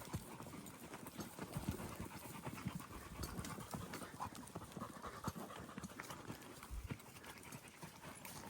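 Dogs panting hard while holding a runaway horse on a ranch, the breathing continuous and close, mixed with horse hoof clops and rustling throughout.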